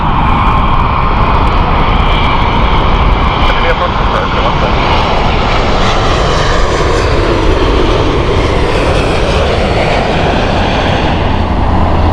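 A fixed-wing jet landing in a crosswind at Heathrow Airport roars loud and continuous, its engine rumble steady and broad throughout with no gaps.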